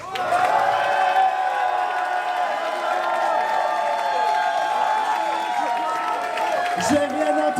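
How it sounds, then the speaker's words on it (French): A drag competition finale audience applauds and cheers for the performer Magnetica, with dense, sustained clapping and whoops that fill the room, steady and loud throughout. "Et je compte sur vous pour l'applaudir, s'il vous plaît."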